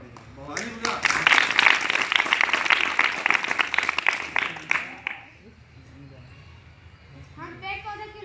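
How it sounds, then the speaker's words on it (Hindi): Children in a classroom clap hands together in a loud, dense burst lasting a few seconds, which then stops abruptly. An adult voice speaks afterward. "ताली बजा"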